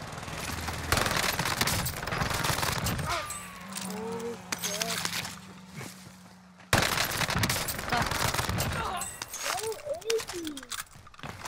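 Machine pistol bursts, the OTS 9, in Vanguard Warzone on Rebirth Island: loud rattling volleys that break off briefly and resume, with a player talking over the game sounds.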